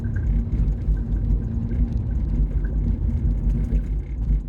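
An Alfa Romeo rolls over an old disused railway track crossing, giving a steady low interior road rumble with faint knocks and rattles throughout, no voices.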